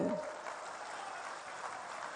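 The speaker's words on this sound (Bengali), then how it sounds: "বিমান ঘোষ সহ অন্যান্য জেলার জেলা সভাপতি সবাইকে একবার জোরে হাততালি দিয়ে স্বাগত জানাবেন" Crowd applause at a political rally where a prime minister is present: a brief, fairly distant wash of clapping that stays faint and even for about two seconds.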